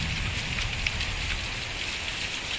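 Hard rain falls without letup over a countryside farm, a thick uniform rushing patter nearby that holds constant from start to finish, with no one speaking.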